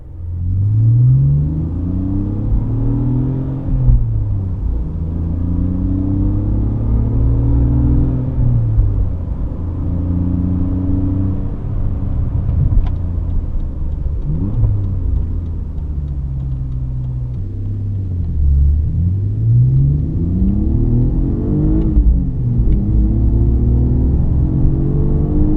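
A BMW E46 325i with a lightweight flywheel revving and shifting up through the gears, engine pitch climbing and dropping sharply at each shift, close and steady with no talking.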